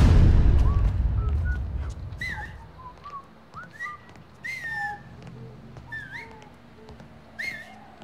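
Melodic whistling in the video game Mafia III, a series of short rising and falling whistled notes at moderate distance over quiet ambience, following a fading low rumble at the start.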